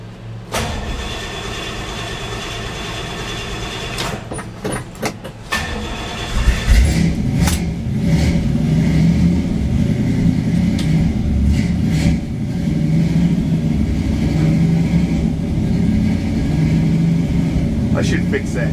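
An old engine with a carburetor primed by hand fires up and runs loudly, settling into a steady rumble with rises in revving, while someone talks over it now and then.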